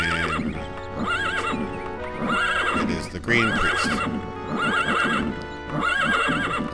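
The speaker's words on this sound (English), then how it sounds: "This is my really loud, annoying horse." A horse in the game The Elder Scrolls II: Daggerfall neighs and whinnies repeatedly and loudly over clip-clopping hooves, with a voice speaking briefly partway through.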